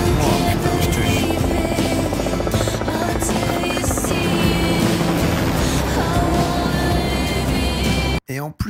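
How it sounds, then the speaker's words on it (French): A helicopter in the Netflix survival show Outlast makes a loud, constant rotor drone that fills the whole stretch, then cuts off abruptly near the end. "il te faut regarder l'autre hélico"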